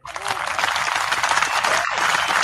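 A burst of hand clapping applause on a live podcast, dense and sustained from a small group, with a voice briefly audible under it.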